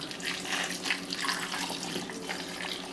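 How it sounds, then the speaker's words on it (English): Cold water runs steadily from a tap into a pot of browned beef for stew, a continuous broadband rush of flowing water filling the vessel, close and even throughout with no talking. "And then I'm gonna add my water. You want cold water?"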